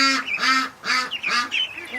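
Ducks quack in a tight, loud sequence of nasal calls close by, several overlapping calls coming in bursts with short gaps between them.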